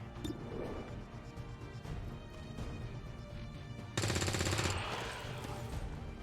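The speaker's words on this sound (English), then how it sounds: "And I can reach them with the grenade." A grenade explodes in the XCOM 2 video game, a loud sudden blast with a burst of debris and a rumbling tail amid ongoing battle effects.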